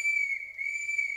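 A boatswain's whistle pipes all hands on deck aboard a ship in a radio play, one sustained shrill, steady tone alone with a slight wavering dip partway through.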